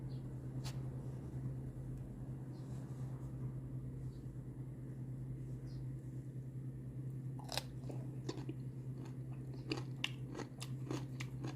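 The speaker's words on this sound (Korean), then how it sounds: "시식을 한번 해볼게요" Close, crunchy chewing of pickled wild aralia shoots during a taste test, with irregular bites and crunches clustering toward the end over a steady low background hum.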